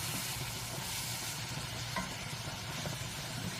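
Fresh vegetables for a cauliflower pie sizzle steadily in a pan, a soft continuous frying hiss with occasional scraping as they are stirred, close and fairly quiet.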